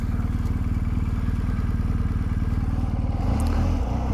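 A 2020 BMW R1250GS motorcycle engine pulls off for a ride, a loud, close, steady rhythmic boxer-twin putter that swells slightly as it revs near the end.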